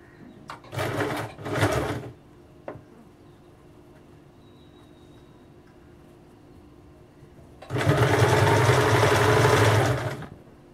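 A sewing machine stitches piping onto a blouse in two bursts, first a short pair of quick runs, then a longer steady whirring run after a pause, with the motor humming close by.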